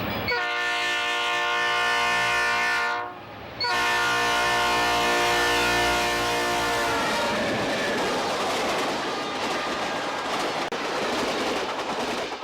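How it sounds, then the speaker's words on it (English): A charter freight train's locomotive air horn blares long, sustained chord blasts up close, with a brief break, then fades into rumbling, clattering wheels on the rails. "they started blowing the air horn"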